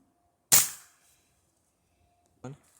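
A Benjamin Vaporizer .22 caliber air rifle fires once at 10 yards, a sharp, loud crack with a quick decay, followed about two seconds later by a short, fainter impact or snap.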